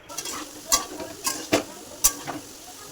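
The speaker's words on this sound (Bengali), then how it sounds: "এবার আলুটাকে ভেজে নিতে হবে" Potatoes frying in a pan while being stirred, a soft sizzle underneath several distinct scraping strokes of a spatula, spaced irregularly and close by, with no talk.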